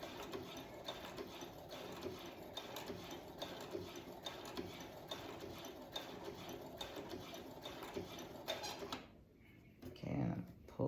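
A Brother sewing machine stitching in steady rapid bursts, a close mechanical whirring and clatter with rhythmic pulses, running for most of the time before stopping near the end, followed by a brief handling clatter.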